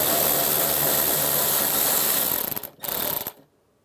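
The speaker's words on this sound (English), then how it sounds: "You want to take that bolt, loosen that up. We're going to take it out completely." A ratchet wrench works a bolt loose inside a 2011-2019 Ford Explorer driver door during a window regulator replacement, a close, rapid mechanical clicking run that breaks briefly near the end and then stops into silence.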